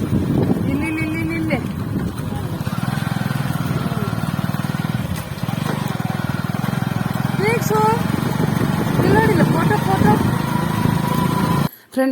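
A motorcycle on a bike journey, with a continuous engine drone and rushing wind buffeting the microphone throughout, and voices talking over the ride.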